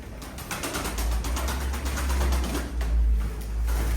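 Soft, low cooing of pigeons, kept as tumbler or show birds, blends into a rough, noisy background with faint fluttering, continuous and fairly close.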